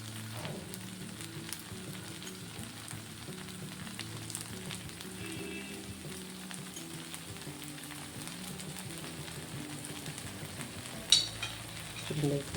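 Rava dosa frying in oil on a hot pan, a steady low sizzle running throughout with a couple of sharper crackles near the end, no voices.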